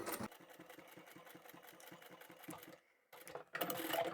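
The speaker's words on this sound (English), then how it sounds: "Let's go and sew the seam on the side." Close domestic sewing machine stitching a side seam on a fabric pocket tissue holder, running in a rapid even rhythm, pausing briefly, then starting up again.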